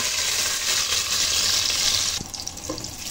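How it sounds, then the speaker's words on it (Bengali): An egg frying in oil for egg pulao produces a loud, continuous hissing sizzle that eases a little toward the end, with no talk. "এখন ডিমটাকে হালকা ভেজে নেব।"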